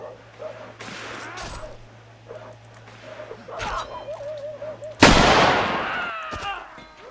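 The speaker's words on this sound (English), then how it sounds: "And the bullets whiz through the air" Gunfire in a US Civil War game mod, scattered musket shots and whizzing bullets over a low hum, ending in one loud close crack that rings out and fades.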